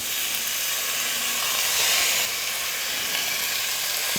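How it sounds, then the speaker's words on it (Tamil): Chicken leg pieces fry in biryani masala with a loud, continuous hiss and sizzle from the hot pan. The sound swells briefly midway, and no one speaks. "சிக்கன் போட்டதுக்கப்புறம் ஒரு 2 நிமிஷம் நல்லா வதங்கட்டும்."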